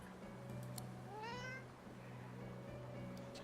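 A cat meows once in a video game, a single clear rising-and-falling meow over a steady low hum, fairly faint and alone.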